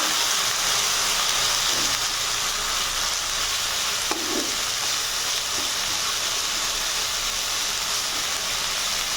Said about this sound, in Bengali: আমি ভালোভাবে নাড়াচাড়া করে দেবো